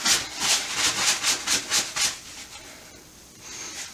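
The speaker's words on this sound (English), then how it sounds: "Brush some excess off on my shirt over here." A hand brushes excess baby powder off onto a shirt in about eight quick, even rubbing strokes close to the microphone, followed by a softer rustle and near quiet.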